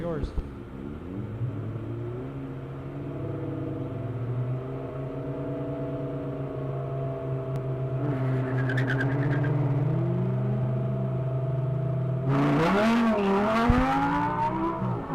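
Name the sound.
autocross cars at start line: Mazdaspeed Miata and Audi R8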